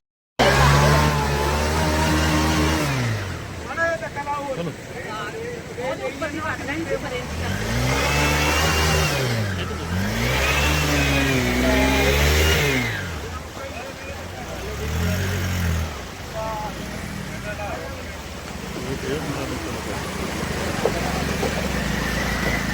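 Motorcycle engines rev and roar nearby, rising and falling in repeated surges as the motorcycles are pushed out of difficult ground in Behbalpur, Hoshiarpur district, with voices mixed into the noise.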